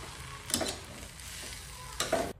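Egg fried rice with tomato sauce, chili sauce and soy sauce being stirred in a hot pan, with two short scraping bursts over a steady low sizzle, close and fairly quiet.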